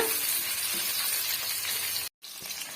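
Okra frying in hot oil in a pan for a tamarind gravy, giving a steady broadband sizzle and hiss with a brief dropout near the end before the sizzling resumes.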